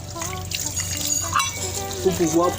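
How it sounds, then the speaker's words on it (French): Water draining out of a pressure tank from a water pressure booster system, a trickling, gurgling flow under someone speaking close by. "nous allons vidanger l'intérieur, vidanger l'eau"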